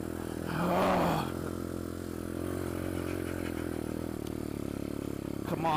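A pit bike engine revs while riding through the woods, a steady buzzing drone with a swelling rev near the start, close and continuous, with light clatter from the trail.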